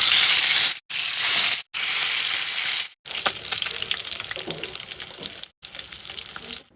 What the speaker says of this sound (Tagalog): Unang gagawin ay iprito muna ang mga tilapia.